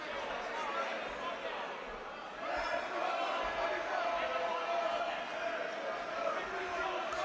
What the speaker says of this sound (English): Crowd doing everything they can to rally their fighter